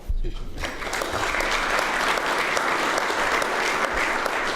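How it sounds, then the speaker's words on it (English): Steady applause from a club audience welcoming a Pulitzer Prize-winning editorial writer, dense clapping that holds evenly throughout. "I'm breaking protocol and clapping in between"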